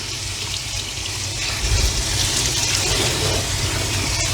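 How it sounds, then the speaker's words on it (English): Cold tap water runs steadily over cooked pasta shells in a pan at a kitchen sink, a continuous splashing rush that swells slightly midway and carries on alone without talk. "I'm gonna gently run cold water."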